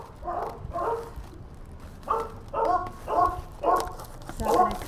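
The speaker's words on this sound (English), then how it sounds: "I see a dog." A dog barks in a run of short, sharp yaps, one pair near the start and then several more in quick succession. The barking is moderately close and comes at night outside a delivery stop.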